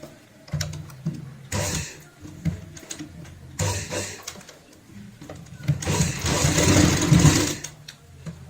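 A sewing machine stitches fabric for a hand purse in a few runs of steady mechanical whirring, stopping and starting, with the longest, loudest burst near the end; close and alone.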